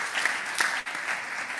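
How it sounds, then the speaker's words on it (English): An audience applauds the Provincial Commissioner during a formal house sitting, steady dense clapping that holds throughout with a brief dip near the end. "Can we just give a round of applause to the Provincial Commissioner for the last time?"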